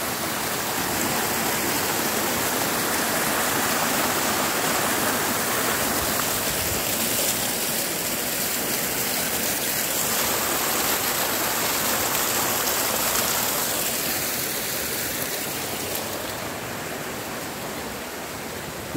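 The Craig Hill waterfall and its stream in Tobago, a loud unbroken roar of rushing, splashing water close by, steady throughout with no voices.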